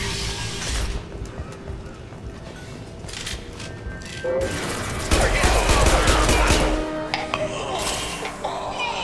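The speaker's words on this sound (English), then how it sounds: "Firing an impact gun!" Impact gun fire in the Mass Effect video game, a dense, loud fusillade of rapid mechanical shots and clinks over steady game noise, swelling in the second half.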